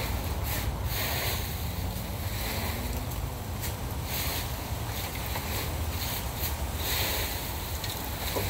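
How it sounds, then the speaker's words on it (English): Strong wind blowing outdoors, a loud continuous rushing roar with gusty buffeting against the microphone and no pauses. "The wind is gonna come and blow all my leaves away now."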